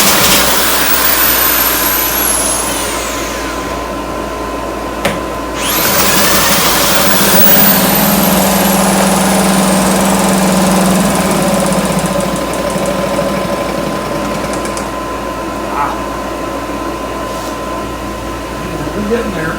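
A 1971 Johnson Mate 2 hp outboard motor idles steadily after carburetor cleaning and mixture adjustment, a constant loud buzzing drone with a brief revving sweep early on and a slight change in pitch midway.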